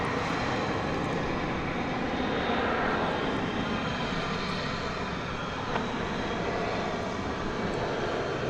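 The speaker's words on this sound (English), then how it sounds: "We've got a plane taking off here." An Alaska Airlines Boeing 737-9 takes off at Dallas/Fort Worth airport, its engines giving a loud, steady broadband roar that holds throughout with no talk over it.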